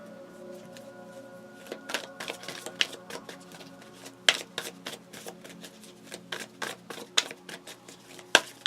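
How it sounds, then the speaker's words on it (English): A deck of cards being shuffled up close, with a run of crisp riffling bursts and sharp snaps repeating irregularly over a steady background hum. "Let me shuffle my cards like this because they're kind of getting bunched up."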